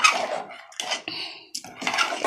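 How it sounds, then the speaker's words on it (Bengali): A kadai, a cooking pot, is rinsed with water in short bursts of splashing and sloshing, with metallic clinks of the pot between them, close by and with no talking. "কড়াটা এবার ধুয়ে দিয়ে দেবো।"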